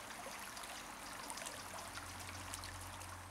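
The Céou river in limestone country trickles and babbles steadily, with a faint, continuous wash of flowing water and no voices.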